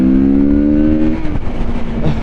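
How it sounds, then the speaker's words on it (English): A Kawasaki Z650 RS motorcycle engine revs close up, its loud pitch climbing steadily for about a second before dropping off into a rougher, lower burble as the throttle closes. "And the engine actually doesn't sound bad."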